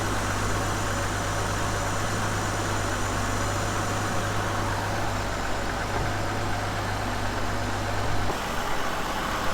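A Ford Escape with a P1506 fault idles high at around 825 RPM, a loud, even engine drone holding steady throughout with no voices.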